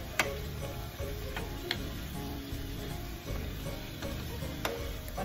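Chicken curry is stirred in a hot pan to mix in fish sauce, a close, quiet sizzle under repeated scraping and clicking of the utensil against the pan at an uneven rhythm.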